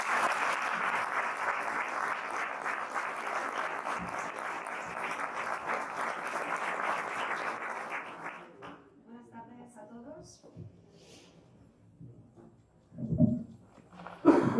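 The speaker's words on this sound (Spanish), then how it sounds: "os pediría un fuerte aplauso para ella" An audience at a VOX commemoration of the Reconquista of the Taifa of Murcia gives sustained, dense applause for about eight seconds. The clapping then fades into scattered murmurs, and a few louder sounds follow near the end.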